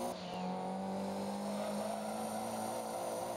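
Engine of a GT1 race car in the Gran Turismo 2 racing game, a steady droning roar with a sustained low tone that holds loud and continuous throughout, without talk.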